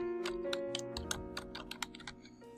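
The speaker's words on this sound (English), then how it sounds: "we're going to type in the word cheap tires" Keys clatter on a computer keyboard as a short search phrase is typed, a quick run of about a dozen close, crisp clicks over a faint steady hum.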